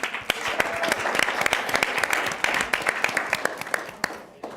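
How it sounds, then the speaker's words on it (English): An audience applauds panelists at an advertising festival. The clapping is moderately loud and even, with sharp individual claps standing out near the front, and it tapers off at the end. "Let's give them a round of applause."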